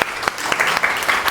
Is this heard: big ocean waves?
no